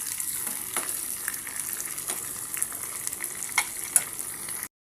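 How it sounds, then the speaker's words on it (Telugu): A Telugu tempering of spices crackles and sizzles in hot oil while frying until brown for leafy-greens dal, a steady bright hiss broken by sharp pops and occasional stirring scrapes, close and alone without talk. "దీన్ని మంచిగా బ్రౌన్ కలర్ వచ్చేంత వరకు ఫ్రై చేసుకోండి"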